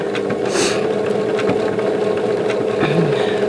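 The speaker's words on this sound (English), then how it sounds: "Put my needle down, tack it, and stitch" A sewing machine stitches an appliquéd quilted gnome table runner, a loud steady motor hum with a rapid needle rhythm and a few small clicks.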